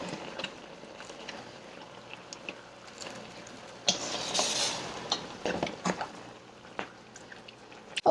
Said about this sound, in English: Let me stir this one.